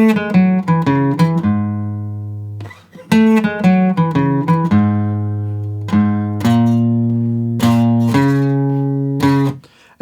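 Guitar playing the chorus of a song, a steady run of strummed and picked chords ringing out with sustained low notes, close and clear, with no one talking.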